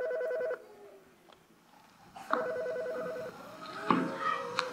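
A telephone rings during a Danish comedy stage show: two bursts of electronic ringing, separated by a pause, with faint crowd and room noise between and after them.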